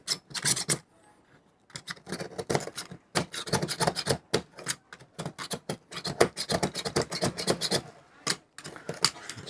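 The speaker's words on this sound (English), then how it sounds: "just getting the excess glue off" Excess glue is scraped off a rudder by hand in quick bursts of sharp, rasping strokes, close and fairly loud, separated by short pauses, with no talking.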